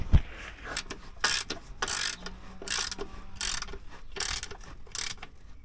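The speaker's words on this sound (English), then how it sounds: "If you like this ratchet, I'll pin a link in the comments so you can get one." A ratchet wrench loosens 10mm sump bolts on a VW T25/T3 with a Golf GTI AGG engine conversion. Close, repeated bursts of clicking and turning come in an irregular rhythm.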